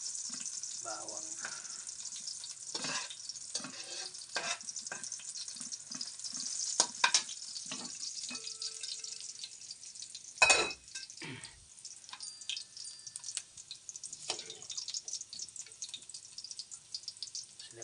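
Garlic frying in a pan for pork afritada, stirred with a utensil: a steady high sizzle broken by irregular scraping clicks and knocks, close and fairly quiet.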